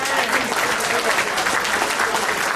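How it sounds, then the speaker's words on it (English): Audience applause fills the room at a speech event honoring a local business owner, a dense steady clapping throughout with a faint crowd murmur underneath. "Let's give Peter a round of applause."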